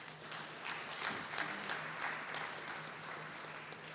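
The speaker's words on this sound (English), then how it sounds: "Give yourself a big round of applause." Distant audience applause at a safety summit in Mbombela, South Africa, a steady wash of many hands clapping at low volume, continuing for a few seconds.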